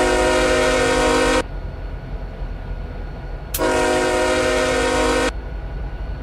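Two long blasts of a diesel freight train horn from a Canadian locomotive in the RO-Scale Sandbox game, each loud and steady for about one and a half seconds, separated by a pause with rumbling engine and track noise underneath.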